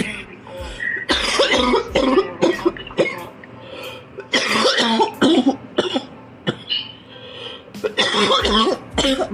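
Repeated harsh coughing fits, close and loud, in bursts across the clip with short pauses between them.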